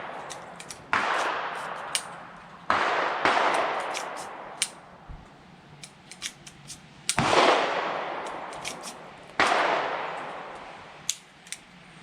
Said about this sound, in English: The 6 rounds that I just fired are the Federal .22 long rifle, 40 grain